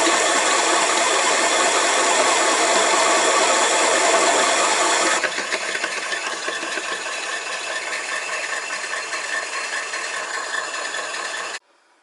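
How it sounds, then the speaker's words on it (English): A loud, steady lathe drone with rattling vibration runs continuously as it parts off a metal part for a model steam engine, dropping in intensity midway, then cutting off abruptly near the end. "while I part off the end of this dog"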